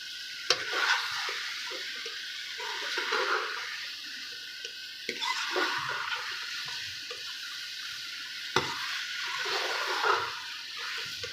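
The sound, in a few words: arbi baingan masala being stirred and fried in ghee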